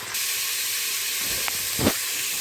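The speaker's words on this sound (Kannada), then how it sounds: "ಆಯಿಲು, ಚಕ್ಕೆ, ಲವಂಗ, ಏಲಕ್ಕಿ ಹಾಕ್ಬಿಟ್ಟು ಈರುಳ್ಳಿ ಫ್ರೈ ಮಾಡ್ತಾ ಇದ್ದೀವಿ" Onions frying in oil with cinnamon, cloves and cardamom for tomato bath give a steady sizzling hiss, with a couple of brief soft knocks near the end.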